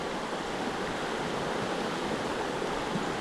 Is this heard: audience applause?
no